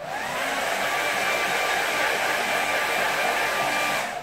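A hair dryer blows steadily and loudly for a few seconds, drying a watercolour snow-field painting, then cuts off at the end.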